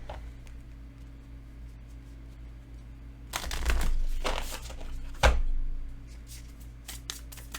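Oracle cards are shuffled close to the mic with several quick riffling bursts and soft taps against a low steady hum indoors.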